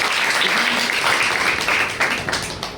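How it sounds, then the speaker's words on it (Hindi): An audience at a youth dialogue program in Jabalpur bursts into loud, vigorous applause, dense and sustained at first, then thinning into scattered claps as it fades. "एक बार जोरदार तालियां होनी चाहिए।"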